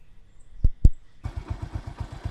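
Two sharp clicks, then a motorcycle engine starts up and settles into a steady low putter, close by.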